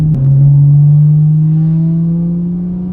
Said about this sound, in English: What I'm going to do is rev it out, and then you'll be able to hear how exactly this thing sounds